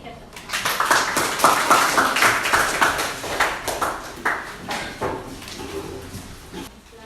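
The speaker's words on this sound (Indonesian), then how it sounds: "berikan tepuk tangan" A class of students claps after a group presentation in a lesson: a loose, uneven patter of hand claps that holds steady for several seconds, mixed with voices talking in the background.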